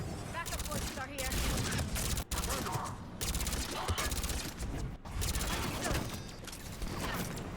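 Enemy turret gunfire in Mass Effect 3, rapid dense bursts of shots rattling in long strings with brief gaps, loud and close, with a voice talking underneath.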